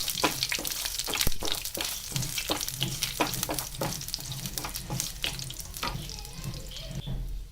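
Dried red chillies frying in a pan while an Onam Sadya dish is cooked: a steady, close sizzle runs throughout, broken by frequent scraping stir strokes.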